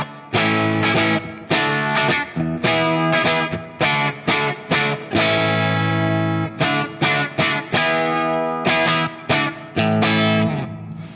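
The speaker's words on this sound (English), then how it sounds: "that is not power tube distortion, that is pi distortion. We are causing the pi to start breaking up now." An amplifier pushed into preamp tube breakup plays loud, gritty distorted guitar chords in choppy, rhythmic bursts with short gaps between strums, with no talking over it.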